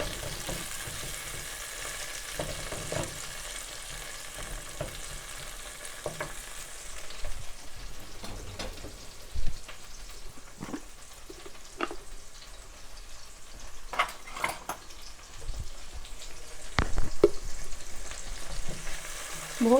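Mixed vegetables lightly frying in a pan, a continuous low sizzle with scattered scrapes and taps of a utensil, close and steady with no talking.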